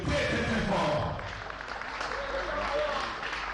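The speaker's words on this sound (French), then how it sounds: "Nous applaudissons très fort." Audience clapping at a boxing tournament in Kinshasa with dense, steady applause filling the hall, a voice speaking over the clapping.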